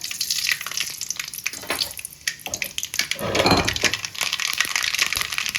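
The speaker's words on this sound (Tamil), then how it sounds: "ஒரு கடாயில் எண்ணெய் எடுத்து அந்த எண்ணெய்க்குள்ளே கடுகு போட்டுக்கலாம்" Mustard seeds splutter in hot oil in a kadai, giving a close, continuous crackle and sizzle with irregular pops and a louder burst midway.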